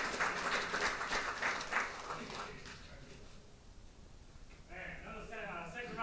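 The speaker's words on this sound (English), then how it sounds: "Second round of applause." Applause from an audience at a community business luncheon in Atascocita, a dense clapping wash that swells and fades, partly mixed with talk.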